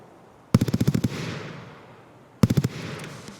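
Escape from Tarkov gunfire sounds out in two rapid bursts, a longer volley of about eight shots and a shorter one of four, sharp and fairly close, each trailing off into echo.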